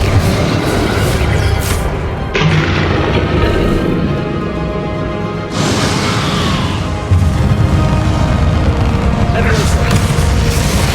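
Confringo blasting spells explode loudly in Hogwarts Legacy combat, several heavy booms and crashing bursts arriving in quick succession over a constant roar of battle effects and voices.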